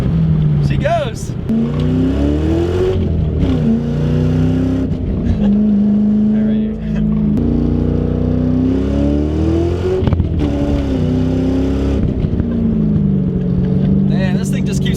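A 1999 Mustang Cobra with an all-OEM engine revs loudly under an underpass, rising and falling in long sustained pulls as the wheels spin, close and steady with someone talking briefly.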